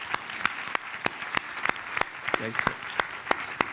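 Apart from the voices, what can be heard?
audience applause for the organizers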